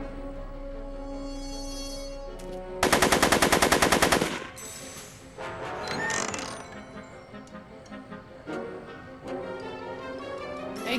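Rapid gunfire in a film scene: a dense, loud burst of automatic shots lasting over a second, then scattered clatter and sharp knocks amid a low background hum.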